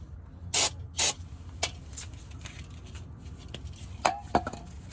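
Cleaner sprayed around the oil drain area of a 2011 Chevy Colorado 2.9L during an oil change, heard as two short close hissing bursts, then a few faint clinks and light handling sounds.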